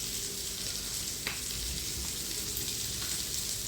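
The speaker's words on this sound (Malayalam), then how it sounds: "ഇത് നന്നായിട്ട് തിളക്കിട്ട് നല്ല ടേസ്റ്റി മത്തിക്കറിയാണ് കേട്ടോ" Sardine curry with mango and tamarind simmering in a pot, a steady close bubbling hiss that runs unbroken throughout with a few soft clicks and no voices.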